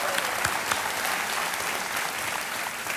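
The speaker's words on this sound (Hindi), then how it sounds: "तालियों के साथ आपका हम स्वागत करते हैं" Studio audience applause on a televised quiz show set, a dense, steady wash of many hands clapping throughout with no voices over it.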